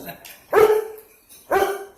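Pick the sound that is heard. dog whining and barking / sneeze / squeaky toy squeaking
dog whining and barking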